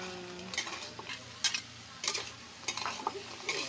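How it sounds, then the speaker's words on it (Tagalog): A utensil scrapes and clanks against a pan in repeated bursts while crispy fried tofu and sliced hotdog are stirred, with a soft frying sizzle underneath. "halo-haloin natin maigi para ma-absorb yung tokwa"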